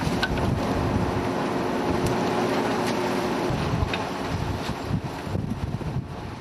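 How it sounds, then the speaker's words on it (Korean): Wind and rough waves batter a skate-fishing boat at sea, a loud, continuous roar of gusts and crashing water with the boat's hull and engine noise blended underneath and brief sharper splashes. "거친 파도에 얼음보다 차가운 바닷물을 뒤집어 쓰고 배는 걷잡을 수 없이 흔들렸다."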